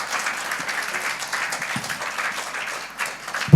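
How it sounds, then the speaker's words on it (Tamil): Lively audience applause for the women who cooked, at a birthday remembrance and cake-cutting celebration. The clapping is steady and sustained throughout, with no voices heard over it. "அவங்களுக்கு ஒரு கைத்தட்டல் கொடுங்க"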